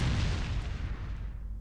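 A rocket launcher fires in Resident Evil 4, a deep booming blast with a heavy low-end rumble that decays steadily, fairly quiet overall and heard alone.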